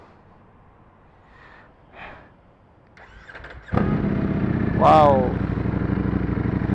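A Ducati motorcycle engine with a titanium exhaust cranks over and roars to life, then idles with a loud rumble and a quick rev, as a voice briefly exclaims.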